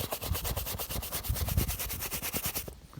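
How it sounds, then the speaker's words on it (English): A brush with cleaning solution scrubs a Jordan sneaker in steady, rapid back-and-forth strokes, close and fairly loud, the rhythmic scratching continuing throughout before stopping abruptly at the end. "I'll just scrub away"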